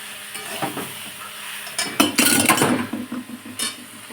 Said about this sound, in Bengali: এখন আমি পরিমাণ মতো লবণ দিয়ে জল দিয়ে দিচ্ছি